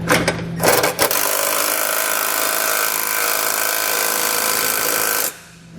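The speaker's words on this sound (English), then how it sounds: "come back with your socket and fully tighten it up." A power socket tool runs in a sustained whir, tightening bolts on a Curt trailer hitch receiver on a 2019 Jeep Compass, preceded by a few short stuttering bursts.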